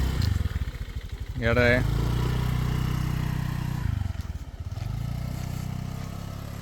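Motor scooter engine held at a low idle, then revved with slow throttle in a rising whine, close by, with people talking over it.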